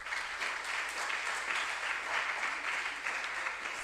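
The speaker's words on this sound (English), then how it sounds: "We can give them a clap" Steady clapping from an audience at a junior science and maths quiz, applauding a competing school; an even, moderately faint patter with no talking.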